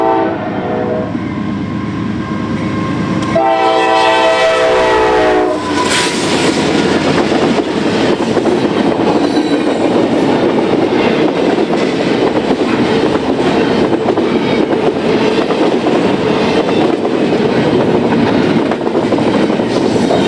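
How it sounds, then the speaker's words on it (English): A Norfolk Southern freight train led by a rebuilt AC44C6M locomotive passes close by, its horn sounding briefly before a loud, continuous roar of rolling cars and wheel noise fills the rest. "Train 268 follows just 10 minutes behind with a rebuilt AC-44 C6M leading the train."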